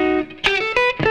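Fender American Professional electric guitar played on the neck pickup with distortion, sustained notes and short sliding phrases, loud and close with no talk.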